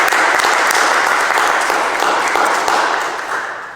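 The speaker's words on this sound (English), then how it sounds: "So let's have a round of applause for those poets." Audience applause for poets at a church poetry reading, a dense burst of many hands clapping steadily throughout, loud and close, fading slightly toward the end.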